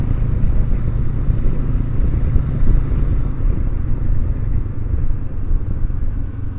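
A 2024 Kawasaki NX500 motorcycle cruising on a group ride, heard as a steady, loud, low engine drone blended with wind rumble throughout, with no voices.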